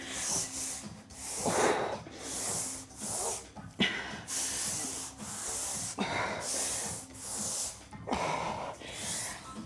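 Exercise gliders slide back and forth across the floor during a strength workout, giving a steady series of rhythmic swishing scrapes about once a second, close and moderately loud, with some heavy breathing between strokes.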